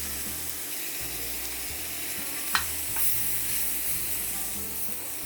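Onions, minced garlic, cabbage and carrots stir-fry for chicken chow mein, giving a steady, fairly loud sizzling hiss broken by one sharp click and a few stirring rustles.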